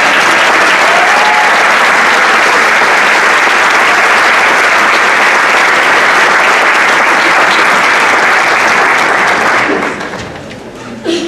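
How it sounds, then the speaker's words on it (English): A crowd at the RHS winter sports awards claps loudly and steadily, a dense full-room roar of hands that holds for about nine seconds before tapering off abruptly. "Let's give a big round of applause to our"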